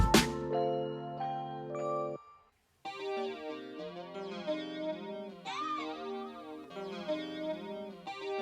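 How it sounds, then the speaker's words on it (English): A traditional bell rung at a restaurant to summon the waiter: a bright tinkling ring with sustained tones for about two seconds, then a brief gap and a denser stretch of ringing, chiming tones that continues to the end. "You can order the waiter through traditional bell"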